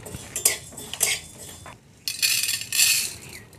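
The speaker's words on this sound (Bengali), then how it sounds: "শুকনো খোলায় কয়েকটা মশলা আমি ভেজে নিচ্ছি।" Coriander, cumin and panch phoron dry-roasting in a pan, with bursts of metal spoon scraping and rattling against the pan, a few separate strokes at first, then longer, louder stirring, close and without talk.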